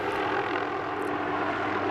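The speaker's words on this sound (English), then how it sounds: "Drivers on County Road 81 in Maple Grove may have noticed a helicopter hovering above power lines" Helicopter hovering above power lines along a county road, a steady, loud broadband engine and rotor roar that holds constant with no talk over it.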